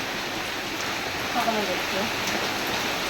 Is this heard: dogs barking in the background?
no